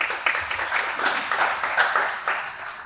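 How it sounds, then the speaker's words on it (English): An audience at a panel event applauds a panelist with sustained, moderately loud clapping that holds steady throughout. "We can give her a round of applause."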